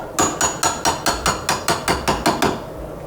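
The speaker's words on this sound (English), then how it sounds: "to punch 2 holes. The idea is that with the aluminum punched through those 2" A hammer strikes a punch through aluminum flashing held in a vise, about eleven sharp, evenly spaced metallic blows close up, with no talk.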